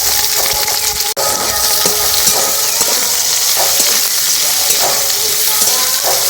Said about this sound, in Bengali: অল্প একটু ভেজে নেব লাল লাল করে। খুব বেশি লাল করে ভাজবো না, হালকা করেই ভেজে নেব।